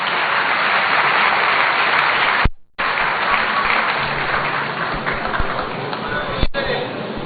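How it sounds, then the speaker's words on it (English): Loud, sustained applause from an audience at a gathering of chiefs and students in Ho, Volta region, welcoming a clergyman to the podium, with a brief cut partway through before the clapping resumes. "Shall we welcome him with a round of applause,"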